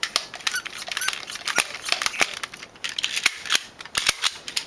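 A Nerf SuperTech 9000 toy blaster pistol fires a string of sharp, snappy clicks and pops, irregularly spaced, loud and close, with light plastic squeaks between shots.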